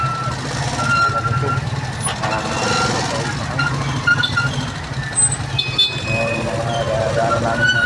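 Street traffic with trucks, a busy road where vehicle engines rumble continuously and a truck's reversing beeps chirp repeatedly, with people talking nearby over the noise.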